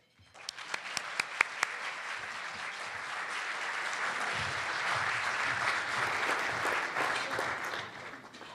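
An audience at a panel event applauds to welcome speaker Evan Smith: a few distinct claps first, then a broad, sustained wave of applause across the room, holding steady before tapering off.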